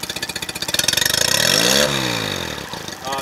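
A Mercury 9.9 four-stroke outboard motor putters close by, its rapid firing pulses speeding up into a steady drone, then settling back, loud and alone.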